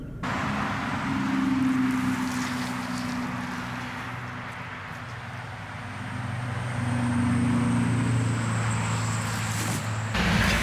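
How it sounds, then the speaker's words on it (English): Road traffic passing near a roadside in Virginia or North Carolina, a continuous loud rumble of vehicles with two swelling passes, one early and one later, and no talking. "As you can hear, the traffic is probably really loud"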